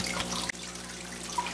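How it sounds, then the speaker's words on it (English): Fish water from an aquarium tank pours steadily into a small container, a continuous close splashing trickle with a brief dip near the middle. "I'm going to fill it up with some of my fish water, just directly from the tank"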